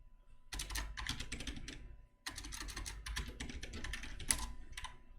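Close, crisp computer keyboard typing of a password, with rapid clattering keystrokes in two dense bursts split by a brief pause.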